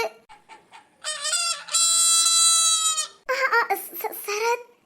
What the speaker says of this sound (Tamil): என்னங்க கோழி கூவுது? அது கோழி இல்லங்க, சேவல்.